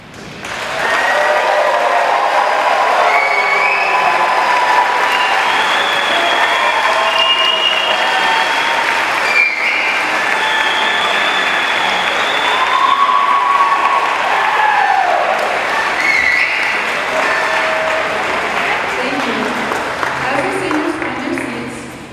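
A large crowd at a high school graduation ceremony applauds and cheers for the graduating seniors, sustained loud clapping with whoops and shouts throughout that tapers off at the end.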